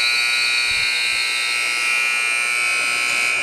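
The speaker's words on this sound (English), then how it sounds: "the buzzer will sound to end the opening 20 minutes of play" A loud, continuous electronic buzzer ends the first period of an ice hockey game, droning without a break, harsh and steady, filling the whole arena.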